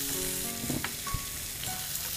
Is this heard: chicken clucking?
no